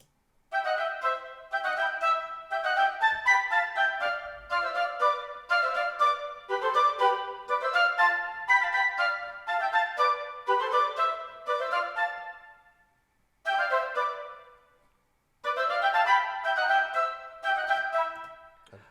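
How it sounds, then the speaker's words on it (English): A woodwind plays a lively run of quick notes in flowing phrases, clear and alone, with two brief pauses before the phrases resume. "bit of a flourish as far as woodwind are concerned"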